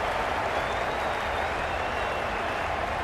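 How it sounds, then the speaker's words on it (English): A stadium crowd in the Cricket 22 video game cheers and applauds loudly, a dense, steady roar of clapping that fills the whole moment. "Will you listen to the crowd?"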